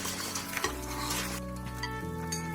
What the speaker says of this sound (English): Copper pots were bubbling and cooks were rushing everywhere.